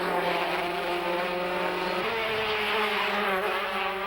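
Racing kart engines at the 1994 Manx Kart Grand Prix in Peel, Isle of Man, including a Formula 1 TM powered machine, drone in a loud, steady high-pitched whine whose pitch shifts midway as the karts pass.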